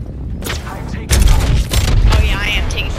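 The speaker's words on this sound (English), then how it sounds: "I am taking fire" Gunfire in the battle royale game Apex Legends: bursts of shots and booms, loudest from a little past one second on, with a player talking over the shooting.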